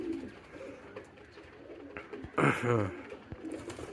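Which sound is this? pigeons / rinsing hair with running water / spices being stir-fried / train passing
pigeons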